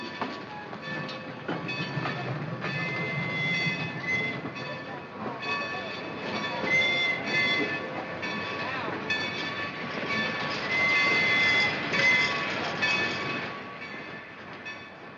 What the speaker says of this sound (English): Oh, the train, it's moving.